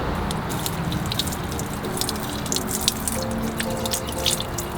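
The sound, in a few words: water running off a non-coated car wheel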